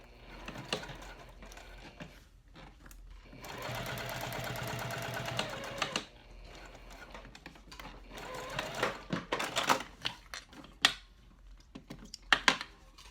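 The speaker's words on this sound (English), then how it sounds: "you're just going to sew down the left side of it" A home sewing machine stitches down the left side of a cork trifold wallet card slot panel, a steady mechanical whir running for a couple of seconds amid scattered handling clicks and rustles.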